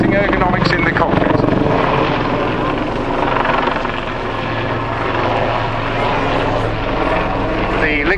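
Loud, steady Lynx helicopter rotor and engine roar throughout, flying aerobatics at an airshow, sounding close, with the pitch wavering slightly as it manoeuvres.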